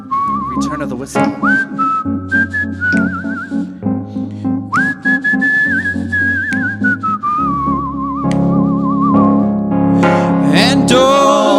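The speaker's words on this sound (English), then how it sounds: "Return of the whistle." Loud, clear human whistling carries a melody with long sustained notes and wavering vibrato over a rhythmic accompaniment of steady pulsing beats, with a livelier flurry of whistled notes near the end.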